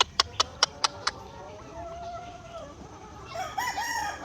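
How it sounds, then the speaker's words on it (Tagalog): An asil rooster on a farm crows, a long drawn-out call, following a quick run of five sharp taps at the start, with more clucking and bird chatter rising near the end. "Ito naman yung pangalawa nating ah, rooster mga ka-farmers."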